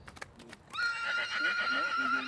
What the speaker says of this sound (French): Antoine élève des chevaux de compétition